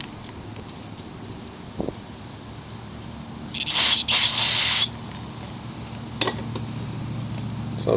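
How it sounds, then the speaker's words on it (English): Aerosol cleaner sprayed through the holes of a lawn mower carburetor in one sustained hissing burst, amid quiet clinks and small handling noises of the parts. "Try to wiggle it through all the holes and spray it out again."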